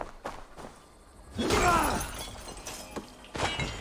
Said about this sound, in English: Way too much exaggeration for breaking a piece of glass.